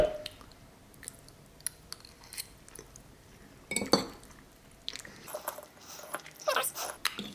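Someone eating Jamie Oliver's five-ingredient carbonara pasta, with close chewing and soft clinks of cutlery against a plate coming in irregular bursts, louder toward the end, with no talking.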